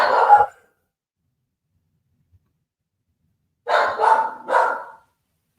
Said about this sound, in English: your dogs are going nuts because they heard mine